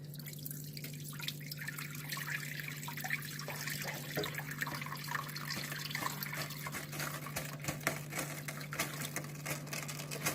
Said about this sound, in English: So now I'm adding the broth. We're going to gently pour this in.